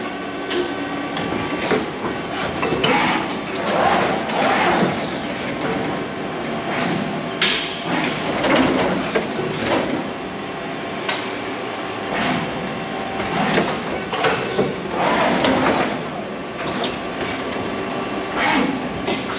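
A Takamaz XW-130 lathe from Yuasa runs in full automatic mode, a continuous mechanical drone broken by regular clunks and clicks of loading and part handling, loud and close throughout.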